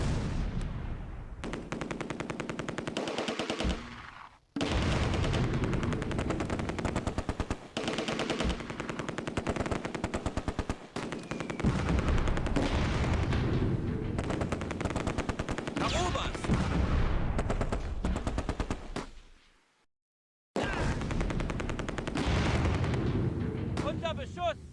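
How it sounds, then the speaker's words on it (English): In the Close Combat war game, a 17-pounder gun fires on German infantry amid dense, loud bursts of machine-gun fire and booming blasts, with brief silent gaps and shouted voices mixed in. "The 17-pounder is putting down heavy direct fire into the main group of German infantry."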